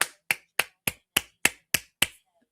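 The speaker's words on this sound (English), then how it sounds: "Golf clap." A single person gives a slow, polite golf clap: eight soft, evenly spaced claps, close and alone with nothing else in the background.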